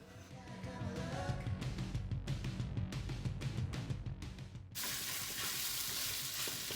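Beet fritter mixture frying in a hot pan over medium-high heat gives a steady, close sizzle that swells into a dense, loud hiss once the whole batch goes in.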